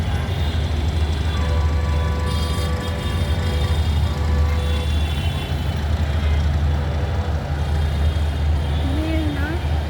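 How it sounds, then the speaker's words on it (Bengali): A train passes below with a steady, heavy low rumble and rolling clatter that continues for the whole stretch, and faint tonal squeals ride on top. "নিচে ট্রেন যাচ্ছে"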